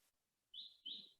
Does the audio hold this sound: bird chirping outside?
yes